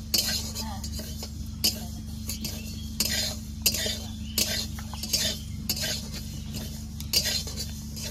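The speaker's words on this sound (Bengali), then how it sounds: "ভালোভাবে নেড়ে চেড়ে মুগ ডালটা ভেজে নিতে হবে।" A utensil scrapes and clinks against a pan in repeated stirring strokes over a soft, steady sizzle of mung lentils dry-frying, close by.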